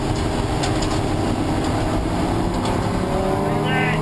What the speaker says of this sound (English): We can ride on board with the 88 car then onto the brakes.